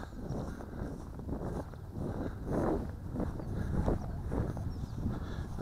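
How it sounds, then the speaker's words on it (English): Gusty wind blows outdoors across marshy ground in a drone flight area, buffeting the microphone with steady low rumbling noise that swells and fades in waves, no speech. "Which way is that wind blowing?"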